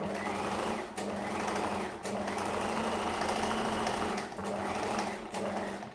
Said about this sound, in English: So I'm just sewing up the side seam here.